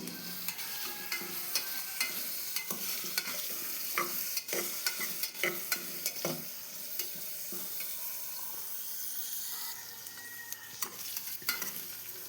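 Onions and green chillies sauté in a pan under a constant quiet sizzle, punctuated by frequent sharp clicks and scrapes of a spoon stirring against the metal, close and without talk.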